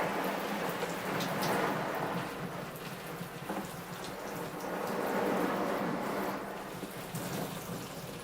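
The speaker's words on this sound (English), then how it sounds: "it's time to give the tree a good rinse" Water pours steadily over the soil of a Schefflera bonsai tree in a greenhouse, a continuous close rushing splash that swells and eases slightly as the stream moves around the pot.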